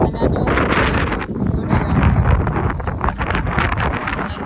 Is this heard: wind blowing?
yes